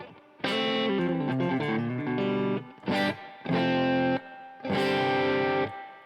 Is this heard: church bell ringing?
no